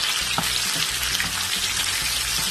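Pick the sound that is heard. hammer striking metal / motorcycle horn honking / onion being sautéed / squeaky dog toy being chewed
onion being sautéed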